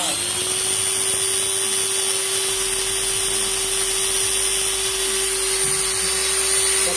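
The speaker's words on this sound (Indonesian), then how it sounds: "mesin bor nyala" An electric drill runs steadily and loudly in a room, a constant motor whine that holds one even pitch throughout with no pauses.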